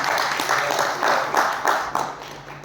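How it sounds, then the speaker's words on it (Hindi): An audience gives loud applause for a man at an art event press conference, a short burst of clapping with rhythmic pulses that fades toward the end. "विंदु सर के लिए जोरदार तालियां।"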